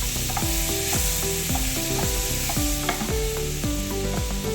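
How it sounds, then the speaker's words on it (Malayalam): Paneer shallow frying in butter in a pan over a low flame gives a steady, close sizzle throughout, with repeated falling tonal sweeps running under it. "ഒന്ന് ഷാലോ ഫ്രൈ ചെയ്തെടുക്കാം"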